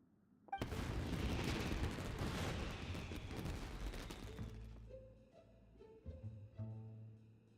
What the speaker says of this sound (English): The fireworks were enough to distract them.